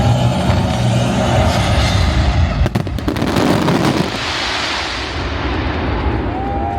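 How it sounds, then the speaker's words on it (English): Fireworks exploding at a large fireworks show, a dense run of booming bursts and crackles, loud and somewhat distant, ending in a sharp cluster of bangs before fading into crackling. "jettison all unused fireworks"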